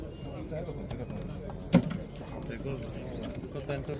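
Pigeons coo at a pigeon market, a soft cooing and one brief louder call heard faintly beneath busy crowd chatter and people talking throughout.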